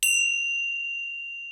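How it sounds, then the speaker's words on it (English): A meditation singing bowl struck once, giving a clear, pure bright tone that rings out loud and close and then sustains with a slow, gentle fade, alone without talk. "I'm going to give you the sounds of the bowl"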